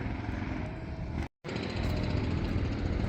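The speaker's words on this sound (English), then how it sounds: "I'm always finding the jackhammers" Loud, continuous mechanical hammering roar of a jackhammer, cutting out briefly for a moment before resuming just as harshly.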